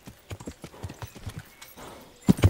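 Rhythmic horse hoofbeats in the video game Kingdom Come: Deliverance clip-clop steadily at a walking pace, ending with a few louder, heavier thuds close by.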